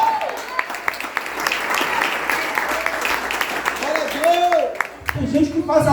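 A church congregation applauding during a Sunday morning service, a steady wash of many hands clapping with a preacher's voice speaking over it and a louder burst near the end.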